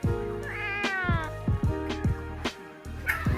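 Cats fight at close range, with drawn-out meows and yowls broken by sharp hisses and spits, loud and continuous over a few seconds.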